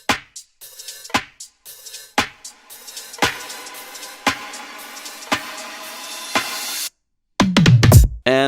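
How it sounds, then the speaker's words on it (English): Build-up drums in an electronic track: evenly spaced punchy hits about once a second over a rising noisy sweep, a brief gap of silence, then a rapid, dense burst of low booming hits. "basically what we're doing here is adding some build-up drums,"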